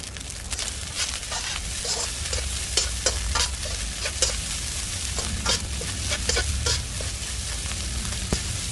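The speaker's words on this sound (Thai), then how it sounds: "แล้วก็ผัดไปเรื่อยๆนะคะ" Pineapple fried rice stir-fried in a pan, with a steady loud sizzle and repeated sharp scrapes and clinks of the spatula in an irregular rhythm, heard alone without any talk.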